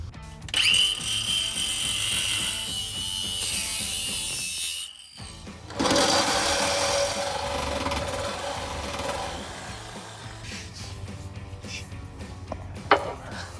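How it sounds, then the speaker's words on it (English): A grinder with a cut-off wheel slices through the muffler pipe on a 2010-2015 V6 Camaro exhaust, a loud continuous whining grind that stops briefly, then resumes with a harsher rasp, close by. "now you're going to cut it off with the grinder"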